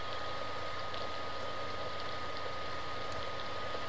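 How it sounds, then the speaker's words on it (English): Rain falling in Beyond Eyes, a steady hiss of dense rainfall with scattered drop patter, constant and moderately quiet throughout, no voices. "Is it really raining? Right now?"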